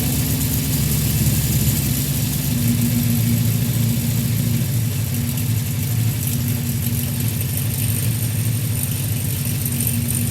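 The engine of a 1977 Honda CB400F motorcycle idles steadily during a carburetor sync, a loud continuous mid-low drone that holds even throughout with no speech.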